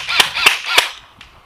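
A G&G Firehawk airsoft rifle fires three sharp, close, evenly spaced cracks, followed by a fainter fourth pop, with no talking.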